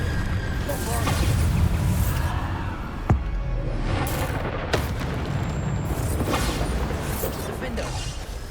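Bombarda blasting spell going off in Hogwarts Legacy, sharp booming bursts near 3 and 4.7 seconds amid dense rumbling combat noise and effects.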